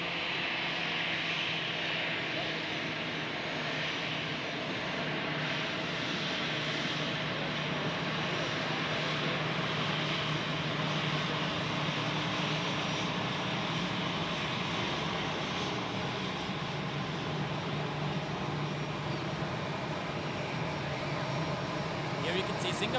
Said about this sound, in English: I think we focus on this beautiful Edelweiss A340